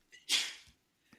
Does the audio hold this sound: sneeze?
yes